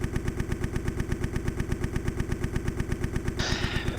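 Motocross bikes in the MX Simulator video game idle on the starting gate before a 450 supercross heat at East Rutherford, giving a rapid, even, throbbing engine pulse. A brief hissing burst joins near the end.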